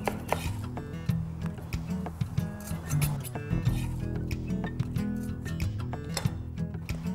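A knife chops fresh coriander on a board in a kitchen, quick close taps in an irregular rhythm over a faint background hum, with no talking.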